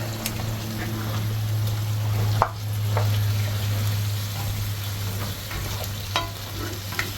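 A pan of food cooking in a home kitchen is stirred steadily, with soft scraping and a low sizzle running throughout, a few sharper clinks breaking through, against a constant low hum.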